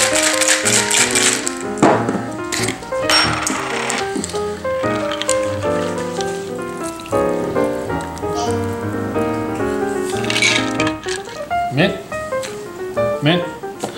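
A cocktail shaker holding Baileys Irish Cream and peppermint schnapps shaken in bursts of rattling ice, mixed under steady background music with a voice talking.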